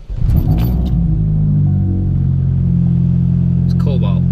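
A loud Nissan Skyline engine idles with a steady, deep rumble that holds on without a break, close and dominant throughout.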